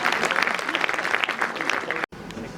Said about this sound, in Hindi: इनके लिए जोर से ताली बजाई जाए।